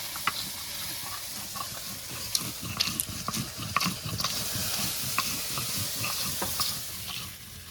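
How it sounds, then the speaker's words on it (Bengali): Oil sizzling in a pan where fish has been fried for a thin Bengali curry, with busy stirring clatter and scraping over a constant hiss, fairly close and without speech. "মাছগুলো সব ভাজা হয়ে গেছে।"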